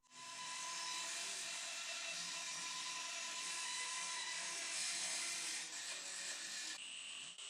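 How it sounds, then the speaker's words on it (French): A steady, loud mechanical whine of a band saw rough-cutting traced wooden parts for a dining table extension, continuous for several seconds with a slight shift in pitch near the end. "découpe grossièrement à la scie à ruban"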